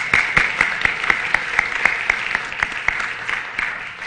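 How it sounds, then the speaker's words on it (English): People at a school board meeting applaud a student, with sharp, evenly spaced claps in a quick steady rhythm that carry on throughout and ease off slightly toward the end. "Could we all give Alyssa a round of applause?"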